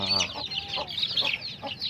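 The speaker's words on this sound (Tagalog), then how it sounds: "Kumustahin na natin yung pinampon kong sisiw" Six small chicks fostered under a Silky hen peep in rapid, high-pitched bursts close by, a continuous chattering chorus, with a brief voice at the very start.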